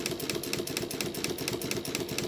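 A Mauzer Mannan International chain stitch machine sews a felt patch with a fast, steady mechanical whir and a rapid repeating needle clatter, continuous and close with no talking.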